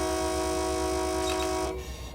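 A BNSF freight train in Run8 Train Simulator passes by as a steady horn tone sounds over a continuous rumbling rail roar, the horn cutting off near the end while the train noise carries on.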